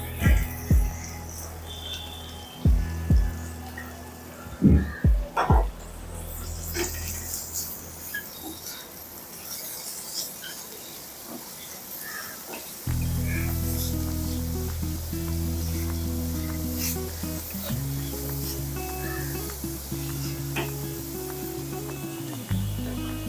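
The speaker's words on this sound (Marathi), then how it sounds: "आपण कांदा घेतलेला आहे ना बारीक चिरलेला तो घालूया" Finely chopped onion drops into hot oil with garlic for a spiced rice dish, and after some brief clattering and handling a steady, close frying sizzle takes over and holds for the rest of the clip.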